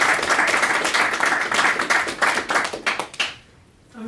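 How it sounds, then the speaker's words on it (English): An audience applauds after a talk at a data visualisation interest group, with a dense burst of clapping from a modest crowd that fades out abruptly near the end. "I think first we should give a round of applause."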